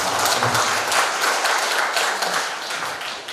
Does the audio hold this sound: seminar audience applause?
yes